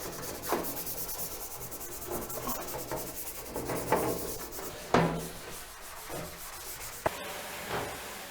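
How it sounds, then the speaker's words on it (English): Someone scrubs an Amiga 1000 computer case in a bathtub after spraying it with window cleaner, giving steady rubbing and brushing strokes with a few sharper knocks, fairly close and moderately quiet, with no speech. "Then I give everything a good scrub."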